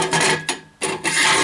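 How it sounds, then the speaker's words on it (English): Grinding or filing down metal welds on a steel lock box, a continuous rough rasping that runs in close strokes with a brief pause in the middle. "smooth these welds down"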